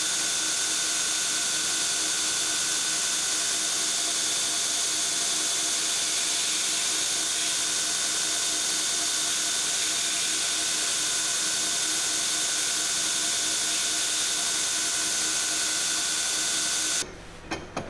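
Belt grinder with a finer belt shapes a custom straight razor blade, a loud, steady high-pitched grinding roar running without pause close by until it cuts off abruptly near the end.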